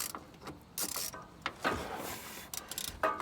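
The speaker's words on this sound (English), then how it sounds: "Get that ratchet on there." Ratchet wrench turning a starter bolt extender on a Ford, giving short bursts of mechanical clicking at close range in irregular spurts, with no talking.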